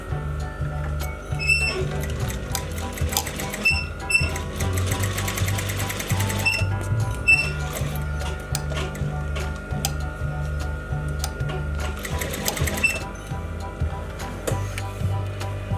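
A sewing machine stitches a pocket opening in fabric, its needle chattering in fast rhythmic runs that stop and restart several times, loud and close throughout.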